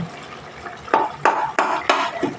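Potatoes frying in a pan are stirred with a spatula, four or five distinct scraping strokes in a quick rhythm over a soft background sizzle, close by and without speech.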